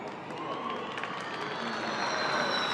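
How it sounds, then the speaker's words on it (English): A thin smattering of crowd applause and light cheering rises faintly for the home hero coming down the hill at the Rome E-Prix Formula E qualifying, steady and distant under a faint whine of an electric race car. "gets a smattering of applause as he comes down the hill"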